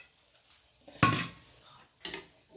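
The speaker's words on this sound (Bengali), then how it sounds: "এবার আমি একটা পাত্রে ঢেলে নেব।" Cooked onion-leaf chorchori is tipped from a pot into a serving bowl, heard as a few close clanks and scrapes of metal utensils with short pauses between them.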